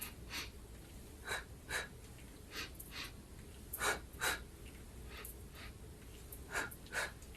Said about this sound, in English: Hear your breath.